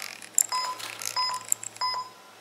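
A series of short, high electronic beeps in quick bursts as a model train track powers up, chirping clearly over a faint low hum.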